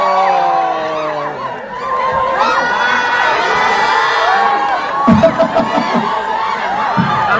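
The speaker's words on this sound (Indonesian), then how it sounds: "Selanjutnya berikan tepuk tangan nih dengan acting yang luar biasa" An audience at a film press conference cheering and whooping with crowd chatter, loud and close, with scattered shouts and clapping bursts toward the end.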